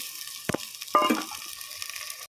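Tomatoes hit hot oil in a frying pan for munnakaya tomato pulusu: a short splash and clatter, then steady, close sizzling and bubbling, with no talking.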